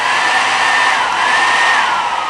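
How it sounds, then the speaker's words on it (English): A blow dryer running on a warm, medium-power setting, producing a loud, steady airy whoosh with a faint high whine, close by and unbroken throughout. "a blow dryer in like a warm setting, not hot, warm setting, medium power."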